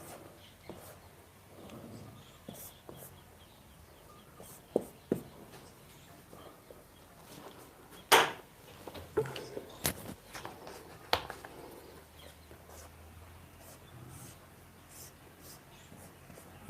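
Marker or chalk scratching across a classroom board as a question is written for a chemistry lesson, with soft irregular strokes and a few sharper taps, quiet and close, without speech.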